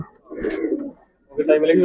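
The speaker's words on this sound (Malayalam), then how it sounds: "ആ പ്രാവ് നല്ല പറക്കുണ്ട് നല്ല ഇണക്കമുള്ള പ്രാവാ" A tame homing pigeon coos close by in two short throaty bursts separated by a brief pause.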